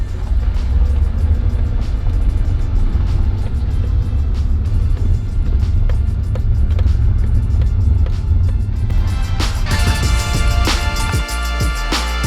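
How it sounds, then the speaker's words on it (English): A 1986 BMW E30 drives along a dirt road, its steady engine rumble and road roar continuous and loud throughout, with a brief change in the noise near the end. "About a mile of dirt road like this up here, and I've been practicing driving on it."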